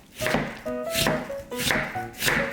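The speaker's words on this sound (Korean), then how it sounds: "먼저 무 400g을 채 썰어 주세요." A knife julienning radish chops rapidly on a cutting board, several quick crisp strikes in an uneven rhythm, close and clear with no talking.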